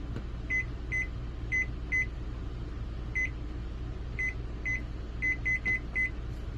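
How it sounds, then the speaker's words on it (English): Short electronic beeps from a microwave oven timer being set, tapped out in a quick series of keypresses over a steady appliance hum, close and clear. "set a timer on the microwave"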